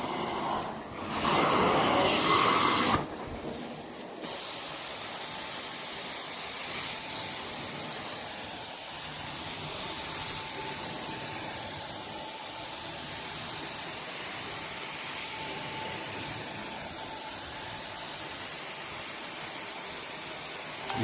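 A carpet steam cleaning machine sprays and sucks in a long continuous hiss, close and steady, with a louder burst and brief pauses near the start before settling into an even rush.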